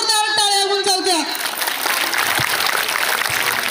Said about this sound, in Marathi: अशा या राजांसाठी एकदा जोरदार टाळ्या होऊन जाऊ द्या